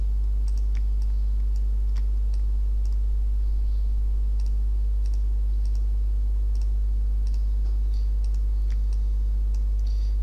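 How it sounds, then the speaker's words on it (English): A computer mouse clicks steadily, with short sharp ticks repeating through the stretch. They sound close and fairly quiet over a low, constant hum, and no one speaks. "instead of left clicking, I'm going to right click and place a blue dot"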